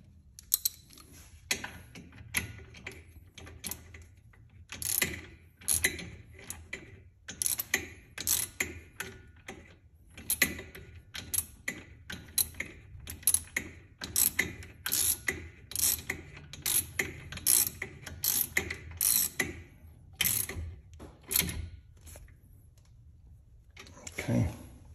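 Ratchet wrench tightening a bolt on the front brake caliper of a 2017 C7 Corvette Grand Sport, rapid close clicking bursts repeating steadily with brief pauses throughout.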